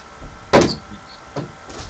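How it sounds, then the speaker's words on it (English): A closet door in a room moves with one loud wooden thump or slide, then a second softer knock about a second later, close by and with no talk. "that would be my closet door"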